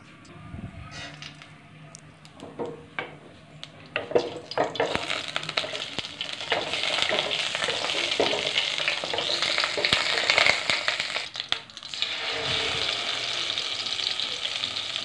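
Black cumin and spices crackle and sizzle in hot mustard oil in a kadai, a close, busy frying hiss that swells and surges with stirring and occasional clinks, with no voices.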